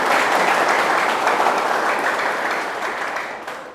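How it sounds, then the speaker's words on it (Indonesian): An audience at a health talk show in Bogor applauds a guest, sustained dense clapping that fills the room and slowly fades toward the end, with no speech over it. "Kita kasih aplaus buat Bapak Ihsan Firdaus."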